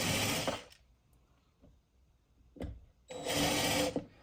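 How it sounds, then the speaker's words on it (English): A power drill whirs in two short bursts, drilling a pilot hole, with a quiet pause between, close up, a faint tap or two in the gap. "you slowly start the pre-drill process"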